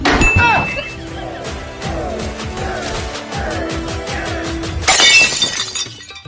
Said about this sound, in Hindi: ये मोसा फूट गया मटकी है।